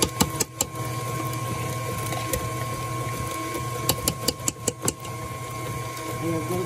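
An electric mixer beats cassava cake batter with condensed milk, a steady mid-pitched motor whir with a few rattling knocks from the bowl, while someone speaks over it.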